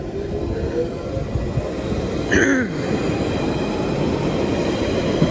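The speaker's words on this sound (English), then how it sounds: "This is a Central Line train to Epping from West Ruislip" A London Underground Central Line train runs through a station, giving a steady rail rumble with a brief wheel squeal about halfway through.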